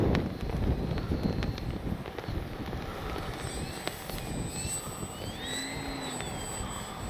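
An FMS Ranger RC plane flying on a windy day, a thin high motor whine that rises and sweeps in pitch as it passes, over strong rumbling wind buffeting the microphone.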